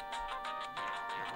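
A phone rings indoors in a domestic comedy scene, with a quiet electronic ringtone repeating in quick rhythmic pulses, a short pause, then more pulses, with no voices over it.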